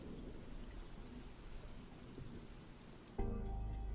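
Steady rain falls in the game Depanneur Nocturne, a soft continuous hiss of drops on surfaces that cuts abruptly to a low rumbling bed near the end.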